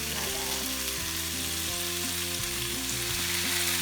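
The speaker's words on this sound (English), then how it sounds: "First, we're going to put the bacon on the grill." Bacon strips sizzle on a grill in a steady, dense frying hiss that runs unbroken from start to finish, close and fairly loud, with no talking.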